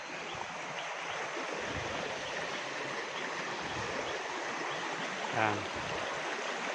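Creek water rushes and burbles steadily in a continuous broadband wash, close by, with a brief higher sound near the end.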